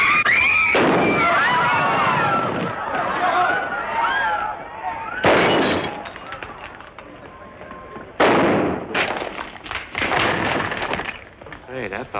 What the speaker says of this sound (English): Hey, that fella can shoot.